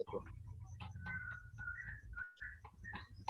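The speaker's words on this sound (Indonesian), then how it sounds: "Soalnya yang masuk suara burung nih" Birdsong picked up by a microphone during an online village-enterprise meeting, a string of short, bright chirps and whistles repeating through the moment over a low room hum, fairly close and clear.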